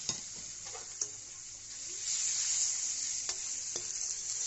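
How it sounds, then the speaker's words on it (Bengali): Paneer fries in hot oil with salt and turmeric, a bright, hissing sizzle that swells midway, punctuated by a few sharp clicks of a spatula against the pan. "পনিরগুলো লাল লাল করে ভাজা হলে তুলে রেখে দিব"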